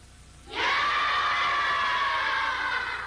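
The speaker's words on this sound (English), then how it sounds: "Then comes practice in shouting." Group of kendo trainees letting out a sustained, loud unison shout that bursts in after a brief quiet moment and holds steady for a few seconds.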